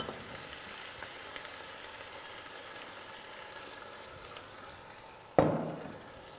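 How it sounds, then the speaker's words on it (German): White wine splashed into a hot pot of mussels, a sudden loud hiss and sizzle bursting in near the end after a quiet stretch of low kitchen background, then tapering off. "Schub Weißwein rein."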